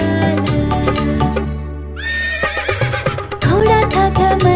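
Horse neighing within a Hindi children's song about a running horse, a loud whinny over bright music with a clip-clop rhythm and more neighs toward the end.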